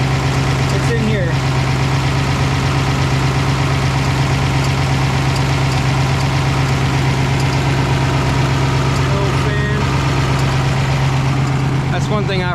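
A 1955 Ford Crown Victoria engine idles smoothly and steadily up close, a constant even hum with a couple of brief ticks breaking through now and then.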